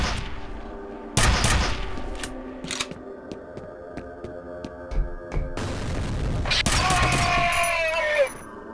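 F.E.A.R. shooter game: a nail-firing weapon lets off loud rapid bursts of sharp cracks in two main volleys with scattered single shots between, over a tonal ambient music bed and brief echoing impacts.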